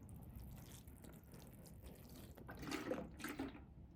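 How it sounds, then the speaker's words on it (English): Light watering of freshly sown seeds in compost, a soft trickling splash that grows slightly louder toward the end, faint and close with no voices. "So here we go, just a little light water."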